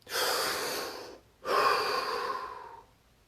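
Two long, deep breaths drawn close to the ear, each a steady airy rush lasting about a second, with a short pause between and no talking.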